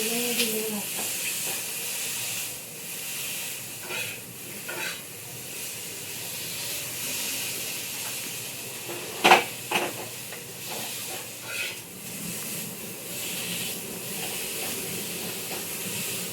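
Ginger roasting in hot oil in a pan, a steady soft sizzle and hiss with occasional stirring clinks and scrapes, close and fairly quiet throughout.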